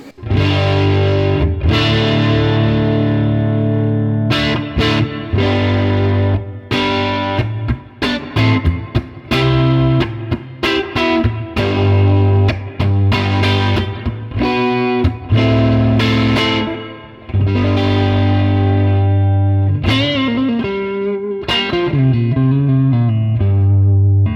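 A heavily distorted electric guitar through a Laney LC30 mk1 amp with a Celestion Creamback speaker, gain between 7 and 8, plays crunchy chords and riffs with sustained notes, loud and upfront with no talking.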